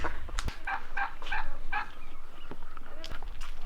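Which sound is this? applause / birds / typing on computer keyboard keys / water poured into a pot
birds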